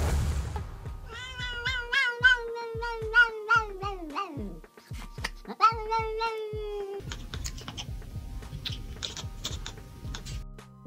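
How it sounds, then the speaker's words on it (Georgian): A cat lets out a series of strange, drawn-out wavering meows close by, some rising and falling in pitch, with soft tapping clicks running underneath and a quieter stretch at the end. "რატომ გამოსცემენ კატები აი ასეთ უცნაურ ხმებს?"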